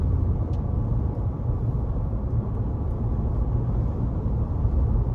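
Steady low rumble of a 2023 Nissan Titan PRO-4X pickup with its 5.6-liter V8 under way, heard from inside the cab as a constant droning road and engine noise with no talking.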